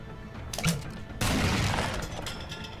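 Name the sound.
grenade thrown and exploding in video game SteamWorld Heist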